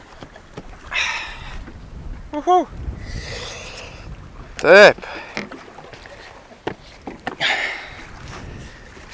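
Wind at sea on the Atlantic near the Bahamas buffets an ocean rowing boat in rough, irregular gusts, with a man's brief speech and short vocal sounds in between.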